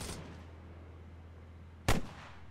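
A single distant burst of gunfire in a multiplayer shooter game, one short sharp report standing out over a low steady hum of background ambience.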